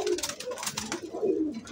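Pigeons coo in a rooftop loft on Eid day, the birds including Garra, Kaldam and silver khaki pigeons. Their soft, low, overlapping cooing comes close by in throaty bursts, with no talk.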